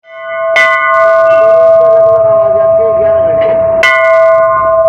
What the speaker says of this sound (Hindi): ये जो यहाँ पर जो घंटी लगी है इनकी आवाज़ अलग अलग है